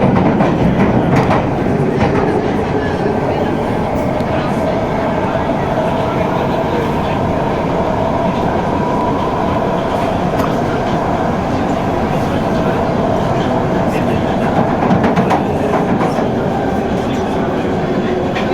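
London Underground Piccadilly line train in motion, a loud, steady rumble and roar of wheels on track with faint rhythmic clatter, heard from inside the carriage; a voice may speak faintly beneath the noise.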